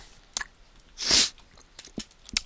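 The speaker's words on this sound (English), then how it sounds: "That sneeze came out of the blue, otherwise I would have warned you." A single sharp sneeze bursts out loud and close, surrounded by small clicks and quiet mouth noises.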